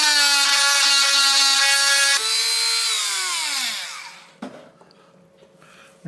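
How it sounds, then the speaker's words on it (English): A handheld Dremel fitted with a diamond bit grinds down the plastic of a BMW glove box torch. Its loud, high motor whine holds steady, then slows and drops in pitch as it spins down, ending in a brief clatter. "go over it with my Dremel once again, this time with just a diamond bit on there, just to take the profile down"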